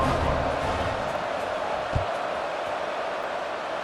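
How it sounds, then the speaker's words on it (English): A stadium crowd in the video game EA Sports College Football 26 roars as a broad, steady wash of noise, with one brief thud partway through. "this crowd now ready to get behind them"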